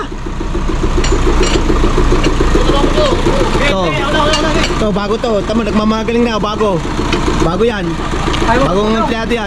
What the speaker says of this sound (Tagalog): Pakinggan mo yung tunog ng truck dito